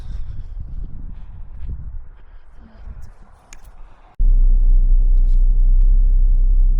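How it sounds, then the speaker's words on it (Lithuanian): A car cruising along a road in cold weather, heard from inside as a continuous low rumble of engine and tyres that grows steadier and louder partway through. "Šį kartą kelionę darysime automobiliu."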